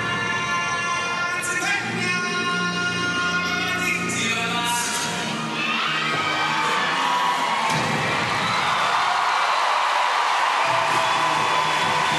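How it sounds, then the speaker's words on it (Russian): A crowd at the 2015 Rhythmic Gymnastics World Championships in Stuttgart cheers and applauds the Bulgarian team, a loud, sustained wash of clapping and whoops over routine music that swells toward the end. "Можно аплодировать, дорогие друзья."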